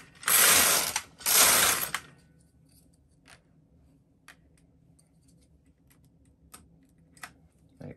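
A Silver Reed LK140/LK150 knitting machine carriage with Fair Isle carriage knitting tuck stitch: two loud rattling, ratcheting sweeps across the needle bed, then quiet mechanical clicks and ticks.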